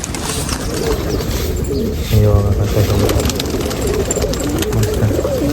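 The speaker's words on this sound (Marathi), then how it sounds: "हे बघा आपल्या नाशिकचे कबुतर पण भाई एकदम टॉप क्लास आहे" Pigeons at a loft in Nashik give low, repeated throaty coos close by, over a busy outdoor background with a faint engine hum and occasional chirps.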